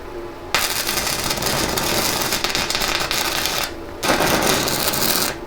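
A tiny stick welder burns a rod on metal with a loud, close crackling buzz in two long sustained runs, split by a short pause, with a brief quieter stretch before the arc strikes.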